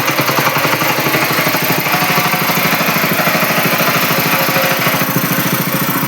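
A newly switched-on power weeder engine runs loud and steady at close range, its fast regular engine pulses continuing without pause throughout, with no speech.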